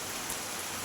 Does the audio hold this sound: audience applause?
no